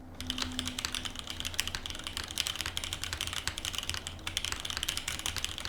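Fast, steady typing on a keyboard with MX Box switches mounted on an aluminum flex-cut plate over a thin PCB, a dense run of thin, light clacks heard close and alone.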